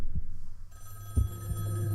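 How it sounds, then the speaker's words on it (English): Slow, low heartbeat thumps in the horror game Sally Face, a few soft pulses over a faint steady hum with a high ringing tone, no talking. "And that heartbeat though."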